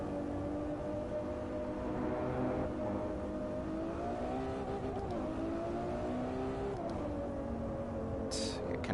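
A race car engine in a racing video game, being downshifted: a steady, moderately quiet drone whose pitch sags and climbs as the gears change, with a few brief clunks along the way.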